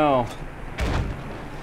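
A mortar round in Battlefield 1 lands with a single deep, heavy boom about a second in, following a brief tonal game sound and fading into a low rumble.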